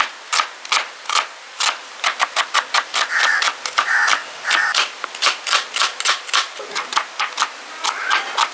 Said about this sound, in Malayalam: നമ്മൾ എടുത്ത് വെച്ചിരിക്കുന്ന സവോളയൊക്കെ ഒന്ന് അരിഞ്ഞെടുക്കുക